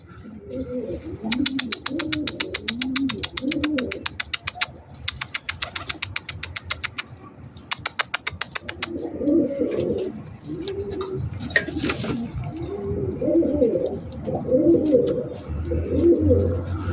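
Pigeons or doves cooing repeatedly in a loft with newly released birds, soft rhythmic coos close by, with bursts of wing flapping and chirps, no talk.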